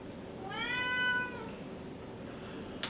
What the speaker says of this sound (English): Our noisy kitty is named Rudy